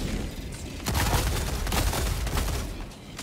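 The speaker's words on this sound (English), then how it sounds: "My god, a destroyer just blew up." A destroyer blows up in the video game Helldivers 2 as a dense, rumbling burst of booms and crackling blasts that swells and holds for a few seconds before easing off.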